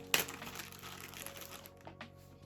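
A plastic zip bag holding bath sponges crinkles and rustles close by, with one sharp crackle at the start followed by softer handling noises.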